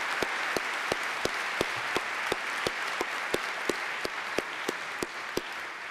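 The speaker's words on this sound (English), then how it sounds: "Ms. Sandy Harvey and Enika Zwerwis, can you give them a round of applause?" Steady audience applause at a 2014 high school graduation ceremony, many hands clapping in a dense, even wash with sharper individual claps standing out at a regular pulse throughout, with no talking over it.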